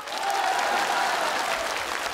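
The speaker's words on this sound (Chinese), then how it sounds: "同意老王头对店的，请鼓掌" Neighbours in a comedy sketch audience clap to cast a vote, a steady, fairly loud round of many hands that holds at an even level for a couple of seconds, with no talking.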